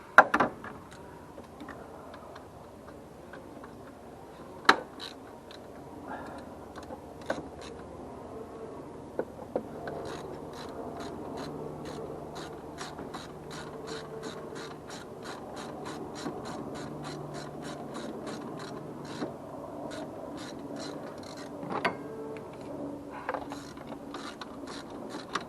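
A hand ratchet backs a 10mm bolt out of a 2012 Mazda 3 sedan in a steady run of rapid pawl clicks with a few louder knocks, close up and without talking.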